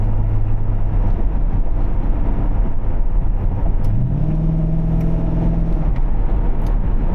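A C5 Corvette engine drones steadily while driving, with a low, even hum that rises briefly in pitch partway through as it picks up speed, loud and with no talk.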